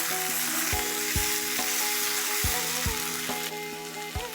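Aloo soya sabzi frying steadily in a pan, a continuous close sizzle broken by regular dull knocks as a spoon stirs and scrapes the mixture.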